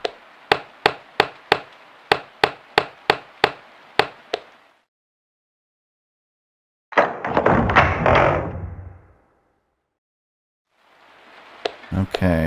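Bare feet thud on the ground in the indie horror game Into the Woods: a quick, even run of a dozen sharp steps, then a pause, a louder rustling burst and a few more faint impacts near the end.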